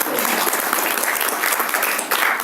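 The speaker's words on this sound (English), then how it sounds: "So shall we give him the round of applause?" An audience at a professional HR auditor certification event gives a dense, sustained round of applause, loud and steady from start to end with no voices over it.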